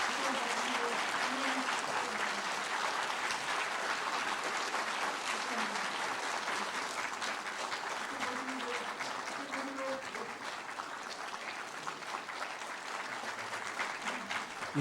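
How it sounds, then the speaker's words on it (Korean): Sustained applause at a university president's inauguration ceremony, with a large seated audience clapping steadily and evenly for the whole stretch, while faint voices murmur beneath it. "뜨거운 박수로 격려해 주시기 바랍니다"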